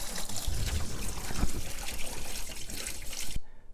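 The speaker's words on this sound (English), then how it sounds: "I'm going to fill it up with vinegar so it's just above where the two jaws meet" White vinegar pours in a continuous trickling splash into a 5-gallon bucket holding a seized Columbian bench vise, close and steady until it stops abruptly.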